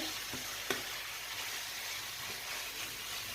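Tomato frying in a generous amount of oil over a medium-low flame makes a continuous, fairly loud hissing sizzle, broken by one sharp clink of a utensil near the start, with no talk.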